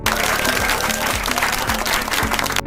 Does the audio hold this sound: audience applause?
yes